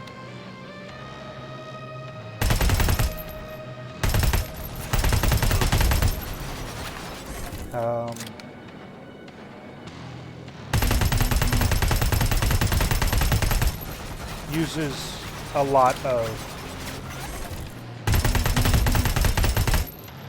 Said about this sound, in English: kept losing my train of thought with all the explosions and gunfire